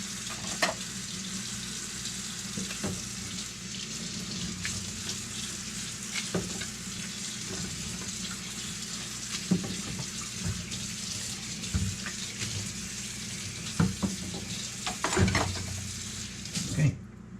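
Celery is rinsed under a running kitchen tap, giving a steady wash of flowing water with light handling clatter and splashes close by.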